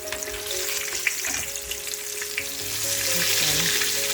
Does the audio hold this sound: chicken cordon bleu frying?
yes